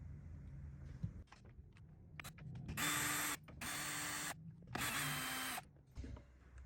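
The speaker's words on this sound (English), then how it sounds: "Next step will be to remove the 3 10mm screws that are located here" A power driver spins out 10mm screws from a Ford Explorer side mirror, making three distinct whirring bursts of about half a second to a second each, with small clicks of handling between them.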